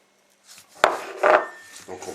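Hands rub a salt and five-spice mix onto duck breast for lacquered duck, giving a few close, dry scraping strokes and a sharp knock against a board or dish.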